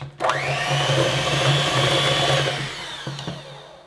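An electric mixer beats coconut bread ingredients in a bowl, with a loud, steady motor whine that runs for about two and a half seconds, then stops, followed by a couple of light clicks.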